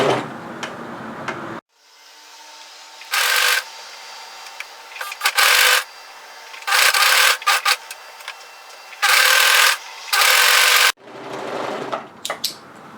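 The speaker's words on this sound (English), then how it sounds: "all you need to do is overlock those 3 layers together and stretch the cuff to fit" An overlocker stitches three fabric layers of a hoodie cuff together in several short, loud, fast-running bursts separated by quiet pauses and fabric handling.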